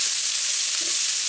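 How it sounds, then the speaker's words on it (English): A steady, hissing sizzle of vegetables frying lightly in a pan alongside grass-fed minced steak, close and continuous, with no voices. "because you're sort of frying it lightly."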